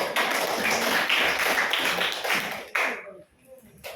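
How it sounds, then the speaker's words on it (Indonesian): Students in a classroom clap for their classmates, a loud, lively patter of many hands lasting nearly three seconds before dropping off to a few scattered claps, with some voices mixed in. "Tepuk tangan ya teman-temannya."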